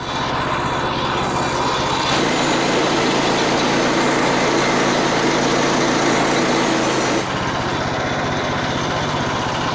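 Sawmill engine drones loud and steady while milling a big, knotty white oak log, the pitch shifting as the blade bites in around two seconds and dropping back near seven seconds.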